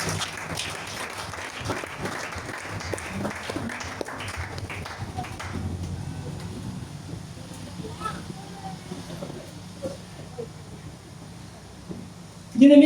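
A church congregation applauds and cheers for Jesus, a dense, fairly loud wash of clapping that fades to scattered claps after about six seconds, with a voice speaking near the end.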